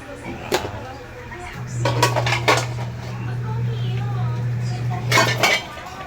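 A metal cooking pot is set down on a stove while cooking corned beef, giving a few sharp metallic clanks and clinks over a low steady hum.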